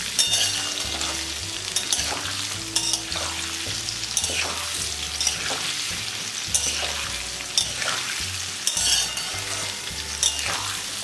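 Mixed vegetables fry with ginger, garlic and green chili for a pickle, giving a constant bright sizzle broken by periodic stirring scrapes and clinks of a utensil in the pan.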